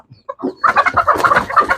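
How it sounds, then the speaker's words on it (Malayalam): Three-and-a-half-month-old Fayoumi chicks cluck close by in a quick burst of short, chattering calls, a few soft notes first, then a dense run of clucks. "മൂന്ന് മൂന്നര മാസം പ്രായമുള്ള ഫയൂമിന്റെ കുഞ്ഞുങ്ങളാട്ടോ ഇത്"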